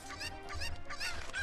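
A chicken from the Zelda Ocarina of Time video game squawks in a few quick, harsh, honking bursts, close and fairly loud, with no speech.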